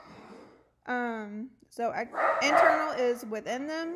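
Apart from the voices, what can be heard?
dogs barking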